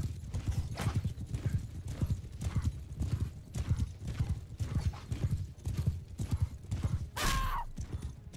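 Horses gallop in Mount & Blade II: Bannerlord, a fast rhythmic clip-clop of hooves repeating steadily, moderately loud, with a brief whinny-like burst near the end.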